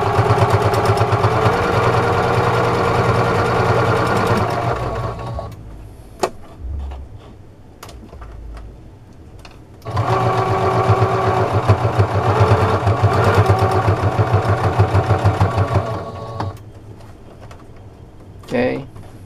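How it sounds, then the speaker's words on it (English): A sewing machine runs in two steady bursts, each about five to six seconds long, while stitching a line across a homemade dish sponge. A quieter pause between the bursts holds scattered clicks and handling sounds. "All it is just sewing a line."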